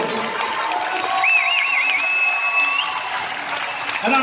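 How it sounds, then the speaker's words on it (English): A boxing crowd applauds both fighters in the ring after the bout. The clapping is sustained and fairly loud, and a high, wavering whistle cuts through it partway. "a massive round of applause for both fighters in the ring"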